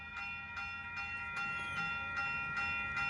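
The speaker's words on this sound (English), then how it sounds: "here goes Caltrain 412. About to depart" Caltrain 412, a southbound limited-stop train, pulls out of Menlo Park station with a steady, loud engine drone and sustained tones. Regular bursts of hiss and rattle recur about every half second.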